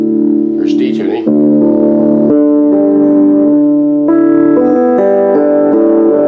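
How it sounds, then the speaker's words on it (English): A VG Stratocaster with digital modelling switched to a D tuning, playing loud sustained strummed chords that ring and change a few times, with a brief bright scrape near the start. "Then I can switch to a D tuning."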